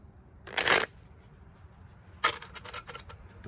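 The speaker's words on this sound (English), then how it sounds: "Okay, I'm gonna shuffle." A deck of cards shuffled before a card reading, with a loud riffle burst near the start, then a quieter stretch and a second run of crisp snapping flutters close to the microphone, with no talking.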